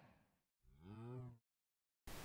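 Cow in Minecraft gives a single drawn-out moo, clear and close, set between brief stretches of silence, with a short burst of noise at the end.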